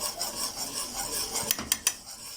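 A spoon scrapes and stirs fenugreek in a cooking pot, a soft continuous rasping rub followed by three sharp metallic taps or clinks near the end, close and fairly quiet.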